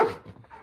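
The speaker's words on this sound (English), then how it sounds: "Oh, come on. Stop barking." Dog barking indoors or nearby, a single short, loud bark that trails off into a fainter whimpering tail, with no talking.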